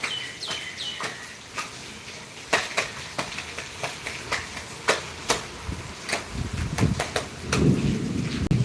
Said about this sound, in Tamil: வள்ளியூரில் இடியுடன் கூடிய மழை